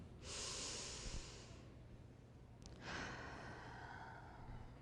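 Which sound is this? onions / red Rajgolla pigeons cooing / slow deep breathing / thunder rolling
slow deep breathing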